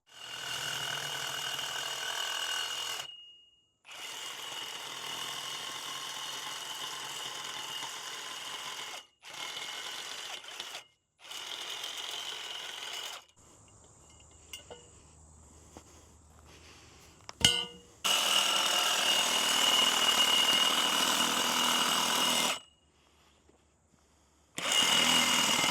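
A power tool cuts through wooden posts outdoors at an off-grid pond site, running in several loud sustained bursts broken by short pauses and a sharp knock, with a steady high whine throughout.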